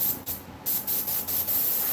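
Bursts of aerosol spray paint, pink, misted onto hands in a shop, several short hissing sprays of varying length separated by brief pauses, close and alone.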